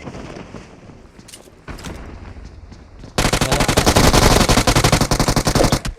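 Enemy automatic gunfire in PUBG Mobile rattles out after a few scattered earlier shots, then bursts into a loud, rapid, continuous volley lasting several seconds.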